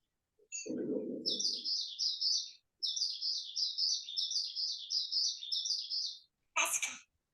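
A voice imitates a bird's chirping with quick high tweeting calls in rapid bursts, after a short low spoken sound, ending with a brief noisy burst, during a preschool online call.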